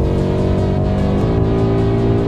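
A car speeds past with a loud, steady engine roar that shifts in pitch midway as it goes by, close and filling the whole moment.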